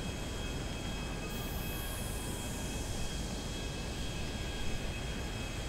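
Airplane taking off in the video game GTA 5, a dense, loud roar of engine and rushing noise filling the whole stretch, with a high tone sliding downward early on, no voices.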